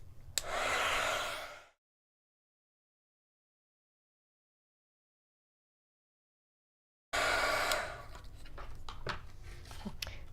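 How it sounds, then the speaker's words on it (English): A crafting heat tool blows hot air over a handmade card, a close, breathy whoosh lasting about a second, then silence, then the blower returns mixed with small handling clicks. "So then I can grab my heat tool."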